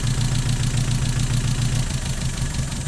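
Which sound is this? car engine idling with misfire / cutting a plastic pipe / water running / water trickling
car engine idling with misfire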